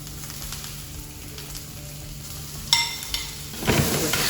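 Peppers sizzle steadily in a hot pan in a restaurant kitchen, with a few close clinks and scrapes of a spoon stirring them near the end.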